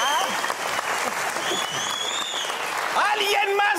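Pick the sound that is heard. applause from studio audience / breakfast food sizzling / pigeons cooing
applause from studio audience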